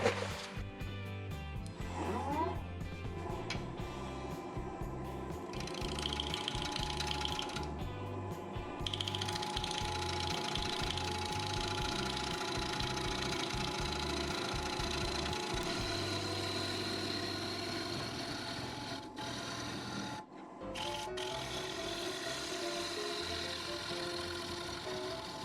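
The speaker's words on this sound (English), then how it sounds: "So I'll be turning this at 850 RPM, and I'm going to start with my 3/4 inch bowl gouge." Wood lathe at 850 RPM turning a natural edge Mayday bowl with a 3/4 inch bowl gouge, a loud steady mechanical whir with rhythmic chattering cuts, dropping briefly near the end before resuming.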